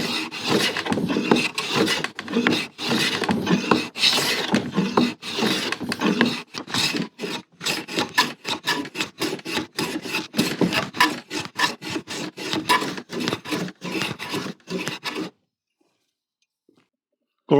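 Card scraper and hand plane working the top of an old painted wooden workbench, rapid rhythmic rasping strokes, close and busy for about fifteen seconds before stopping to near silence.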